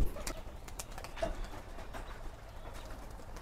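A racing pigeon is let go and takes off, with a brief flutter of wings and faint cooing against a quiet outdoor background.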